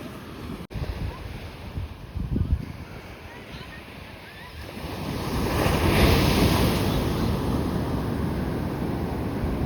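Ocean surf rolls in at a beach with a broad wash that swells louder toward the end, mixed with gusty wind noise.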